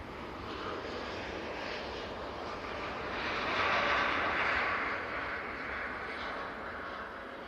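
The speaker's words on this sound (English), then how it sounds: "TUI Dreamliner looking very good there" A TUI Boeing 787 Dreamliner airliner at Manchester Airport gives a steady, fairly distant jet roar that swells louder in the middle as it passes, then eases off again.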